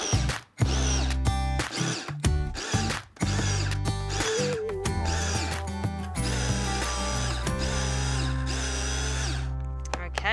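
Food processor pulsing green olive salsa, a loud whirring motor running in several bursts with brief stops between, then a longer continuous run, close by.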